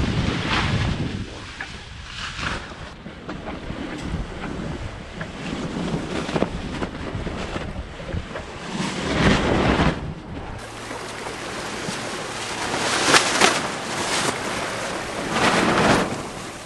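A sailboat crossing open ocean toward French Polynesia in light, dying winds with slatting sails, heard as steady rushing wind and water wash, surges of waves against the hull and gusty buffeting on the microphone, with no talking.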